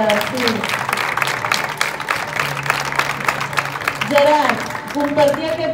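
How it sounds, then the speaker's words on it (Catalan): Applause for Gerard at a sixth-grade graduation ceremony, continuous clapping from a large crowd throughout, with voices speaking and calling over it. "Molt aplaudiment per Gerard"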